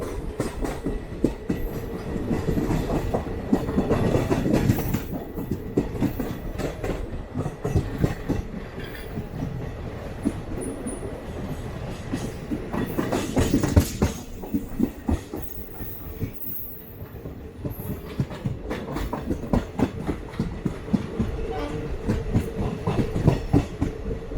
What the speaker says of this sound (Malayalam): അപ്പോൾ അങ്ങനെ നമ്മൾ വിരുദനഗർ സ്റ്റേഷനിലേക്ക് കയറാൻ പോവാണ്.